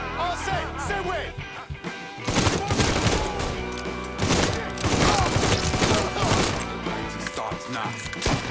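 Rapid bursts of gunfire in the video game Mafia 3, loud and close, firing in clustered volleys with shouted voices in between.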